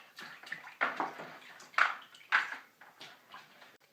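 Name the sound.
water rinsing a pottery wheel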